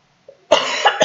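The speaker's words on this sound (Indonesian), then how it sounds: "Sorry agak sedikit batuk ya." A sudden burst of coughing from a man explaining a coal-fired plant process: a faint throat sound, then a loud, rough cough with two further hacking pulses close to the mic.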